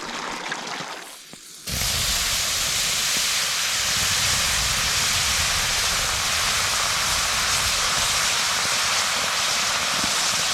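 Loud, steady hissing and sizzling as water hits a hot frying pan at a sub-zero camp by Limestone Creek, breaking in suddenly after a quieter moment and continuing without a break, up close and with no voices.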